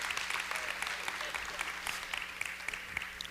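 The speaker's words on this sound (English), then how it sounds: "Clap for them, clap for them, clap for them." A church congregation at a sermon gives sustained, dense applause, a steady crackle of many hands clapping, with a voice partly audible over it.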